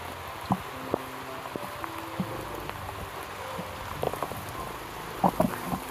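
Steady rain falls in the mountains, a constant hiss with scattered nearby drips and taps landing on surfaces, moderately loud and heard alone without talk.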